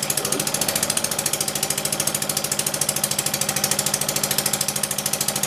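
A model overhead cam engine runs a model compressor with a fast, steady mechanical chatter and rapid knocking pulses, loud and close, continuous with no talking.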